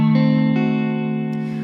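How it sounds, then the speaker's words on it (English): A single diminished chord rings out on an electric guitar through a lo-fi neo soul tone, loud and sustained, with a couple of faint note shifts as it slowly decays. "I played a diminished chord that sounds like this."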